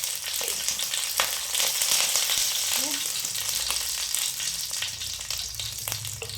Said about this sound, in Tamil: நல்லா கொஞ்சம் அப்படி வதக்கி விட்டுக்கலாம். அதுக்கிட்ட கீரை கொஞ்சம் போட்டுக்குவோம்.